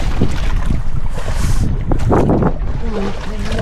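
Strong, steady wind roars against the microphone on a boat at sea, gusting throughout, with faint voices in the background.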